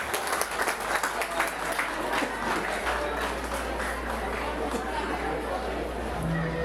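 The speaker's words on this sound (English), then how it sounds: "Round of applause, ladies and gentlemen." A crowd claps at a college golden jubilee night event, individual claps distinct amid an ongoing round of applause, with a low hum and murmuring voices beneath it.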